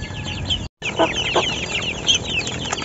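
Chickens cluck and chatter close by in short, scattered bursts, with a brief gap of silence early on and no talk.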